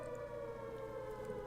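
A steady wailing siren holds one sustained tone with no talking, fairly quiet and continuous throughout.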